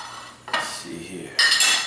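A slice of frittata being served onto a plate, with a few close clinks and scrapes of cutlery against the dish in two short bursts over quiet background.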